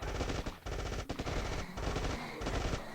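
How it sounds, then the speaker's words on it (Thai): Turret gunfire in the State of Survival video game rattles in rapid bursts of machine-gun shots, loud and dense, broken by brief gaps between volleys. "ป้อมมันยิงใกล้อ่ะป้อมมันเหมือนมันจะยิงไกล แต่ว่ามันยิงใกล้อ่ะ"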